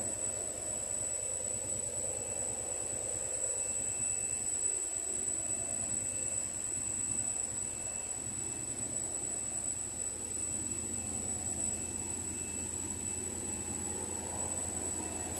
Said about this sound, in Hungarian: Motorvonattal megyünk tovább.